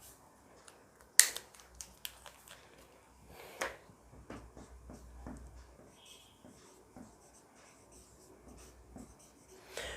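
Marker or chalk strokes on a board during a physics lecture on units and dimensions, faint scratchy writing with a few sharper taps scattered over ten quiet seconds.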